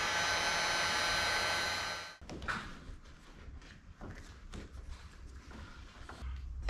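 A heat gun blowing hot air on a pop-up camper roof seal, a steady loud whooshing roar for about two seconds that then cuts off, followed by quieter handling clatter and thumps.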